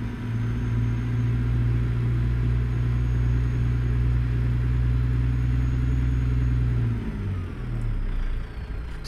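A DD60 14-liter truck engine with a 263-gear setup in American Truck Simulator drones with a steady, loud low rumble that holds constant before dropping in pitch near the end, with no talk.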